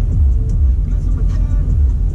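Low, steady engine rumble heard from inside a parked or idling car, a close, heavy drone that fills the whole moment without clear breaks.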